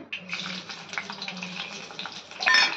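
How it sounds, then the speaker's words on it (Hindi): Fenugreek and cumin seeds sizzle in smoking-hot oil, a close crackling hiss that continues throughout and swells louder near the end. "अब मैं मेथी और जीरा डालूंगी"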